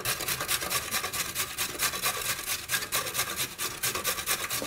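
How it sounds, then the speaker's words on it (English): Carrot, zucchini and beetroot rubbed against a kitchen grater in fast, steady rasping strokes, close and continuous with no talking. "So we start by just grating the vegetables."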